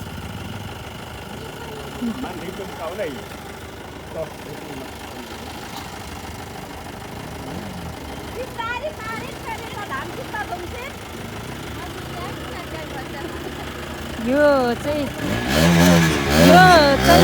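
Motorcycle and car engines idle and rumble nearby under steady chatter, growing louder near the end as vehicles rev and pull away.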